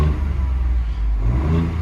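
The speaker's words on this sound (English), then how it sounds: "So you can hear it right now, little revs." A Ford Bronco engine with an aftermarket exhaust idles with a steady low rumble, giving small blips of revs, heard up close and loud with no talking.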